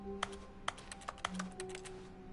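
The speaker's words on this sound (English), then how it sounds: "it sounds like I'm typing" Keyboard typing in The Stanley Parable video game: a few quiet, separate key clicks in an irregular rhythm over a faint steady hum, with no voices.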